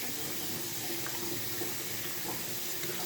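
Tap water runs in a steady, even stream while a curly synthetic lace-front wig is rinsed, a continuous soft splashing wash with no talking.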